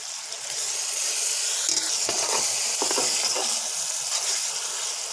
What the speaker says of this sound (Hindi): हल्का सा हम इसको भून लेंगे मसाले को।